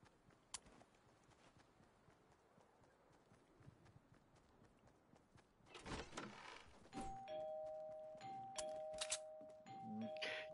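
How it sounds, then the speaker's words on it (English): Doorbell in Fortnite rung several times in quick succession, bright sustained two-tone chimes overlapping near the end, preceded by soft thuds and a louder burst of movement; fairly close within quiet game ambience. "you start ringing that fucking doorbell"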